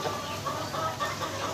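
Aseel chickens at a farm, with a rooster's low clucks close by over a steady background hum of the coop.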